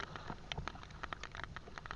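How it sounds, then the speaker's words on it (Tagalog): Rain falls in a soft, uneven patter of scattered drops, faint and continuous, with no voices over it. "Basta, maulan na naman."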